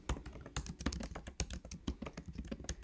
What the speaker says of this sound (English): So we're gonna type it in.